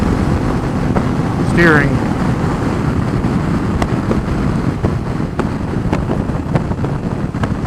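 Wind rushes over an Aprilia Caponord 1200 Rally motorbike at speed, a loud continuous roar buffeting the microphone, with a rider speaking briefly over it.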